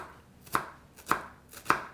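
Three sharp knife chops dicing onions on a cutting board, evenly spaced about half a second apart, close and crisp with quiet between them.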